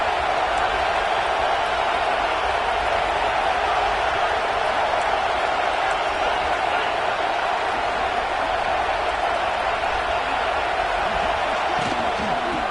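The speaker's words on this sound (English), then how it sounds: "This crowd knows when to bring it." Crowd noise fills a college football stadium during a Michigan at Iowa game, a dense, steady roar that holds loud and unbroken throughout, with no clear individual voices standing out.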